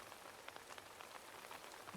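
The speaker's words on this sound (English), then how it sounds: "Okay, and it's raining." Steady soft rain falls in Animal Crossing: New Horizons, a faint, even patter with a few scattered droplet ticks and no voices over it.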